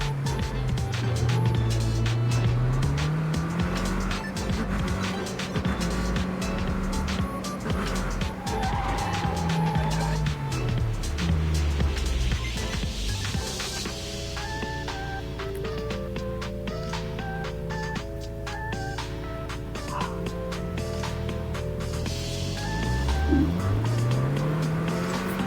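A car is driven through city streets in the open-world game Neverness to Everness, its engine droning steadily with rising and falling revs and tires squealing, loud and continuous throughout with no talk over it.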